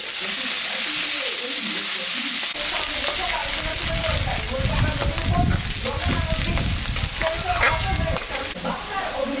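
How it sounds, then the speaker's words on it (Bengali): Onions fry in hot oil in a pan with dried chilli, cumin, bay leaves and garam masala powder. A quieter start gives way to a loud, crackling sizzle with stirring for most of the stretch. "পেঁয়াজটা ভাজা ভাজা হয়ে গেছে,"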